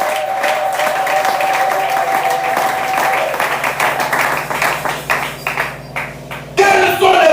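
A church congregation bursts into loud clapping during a sermon, many hands clapping in a dense, irregular stream. A sustained electronic tone sounds early on, and the clapping breaks into scattered claps before a voice cuts in at the end.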